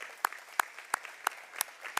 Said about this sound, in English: round of applause for all the companies involved